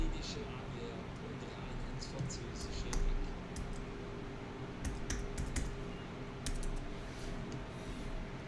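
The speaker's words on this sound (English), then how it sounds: "Just typing something here." Quiet clicky typing on a computer keyboard, with irregular bursts of keystrokes over a steady low room hum.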